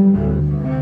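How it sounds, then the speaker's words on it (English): A bowed harmonic bass patch played across all four strings, with a high-pass filter, sustains a low, rhythmic tone. The short, steady phrase sounds alone at close range, with no talk. "just bowed harmonic playing across the sort of across all four strings."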